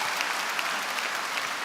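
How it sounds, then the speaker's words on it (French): A comedy show audience applauds steadily, a dense, even clatter of many hands filling the whole stretch with no voices over it. "vous pouvez vous applaudir."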